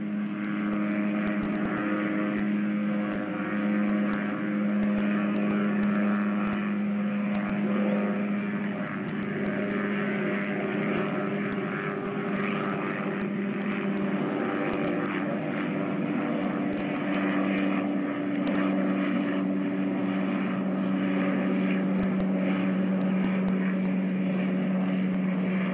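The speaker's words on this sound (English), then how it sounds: "Watching this chopper right now." A steady, loud engine drone with a constant hum holds for the whole stretch, from a helicopter passing overhead above Mt Gusuku on Ie Shima, Okinawa, heard alone without talk.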